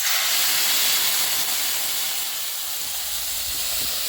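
Water poured into a hot pan of fish-head muri ghonto curry with kulmi greens hisses into steady, loud steam that holds for about four seconds.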